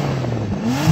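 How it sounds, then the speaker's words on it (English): Bentley W12 engine revving in sports mode, a deep steady drone whose pitch climbs smoothly through the brief clip, close and loud, with no one talking. "So I'm going to rev up this Bentley."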